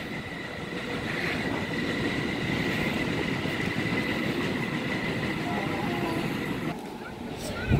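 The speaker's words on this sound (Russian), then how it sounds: "Вон еще один поезд, да?" A train rolls past with a steady rumbling roar and rhythmic wheel clatter, fairly close and continuous, with a faint squeal and voices in the background.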